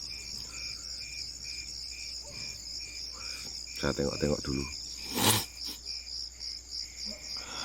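Crickets chirp at night in a steady, high pulsing trill close by, while a voice speaks briefly partway through and a few soft knocks and rustles break in.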